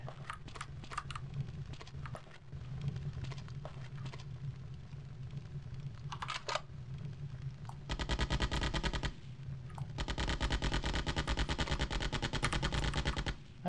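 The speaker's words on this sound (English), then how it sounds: "It's a lot of explosions, too." Rapid gunfire crackles through The Terminator: Future Shock video game at moderate level, with scattered shots early on, then two long, dense bursts of automatic fire later, and no talk.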